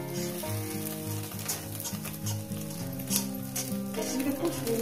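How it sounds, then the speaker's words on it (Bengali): Egg and cauliflower fry in a pan with a continuous, even sizzle and some stirring, heard under background music. "এইভাবে যদি সবজি দিয়ে ডিম ভাজা যায়"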